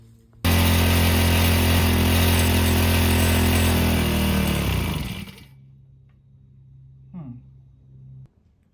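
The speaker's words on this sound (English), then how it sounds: "let's put some gas in it and give it some pull starts" A 40cc two-stroke pocket bike engine roars loud and close for several seconds after a pull start, then abruptly dies away, leaving a faint low hum and a few small clunks.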